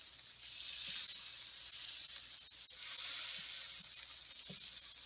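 Butter melting in a pan as a cooking base for vegetables, giving a soft continuous sizzle and hiss that swells slightly halfway through, with a few faint clicks, quiet and close with no talking.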